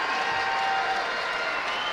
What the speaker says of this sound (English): the crowd in London is on their feet